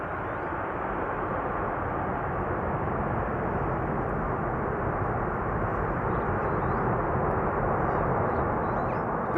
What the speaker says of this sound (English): The reversers still work on the 767.